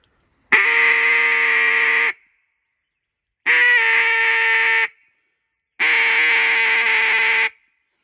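A duck call is blown in three long, steady practice notes of even loudness, each lasting about one and a half seconds, separated by short silences, close and clear with no talking.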